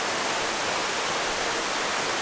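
Waterfall in nature giving a steady, even hiss of rushing water, moderately loud and unbroken for the whole moment.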